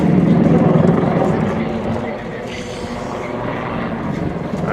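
A heavy battlefield helicopter performs a hanging stall turn and pedal turns at an airshow display, its rotor and engine noise a loud continuous drone under a commentator's voice.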